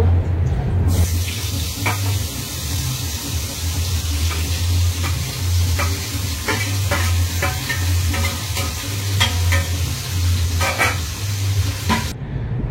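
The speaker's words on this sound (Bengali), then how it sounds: "সেই সবজিগুলো একই তেলে আমি হালকা করে একটু ফ্রাই করে নিব" Mixed vegetables stir-fried in the same oil just used for frying fish, with a loud continuous sizzle and repeated scraping stir strokes throughout.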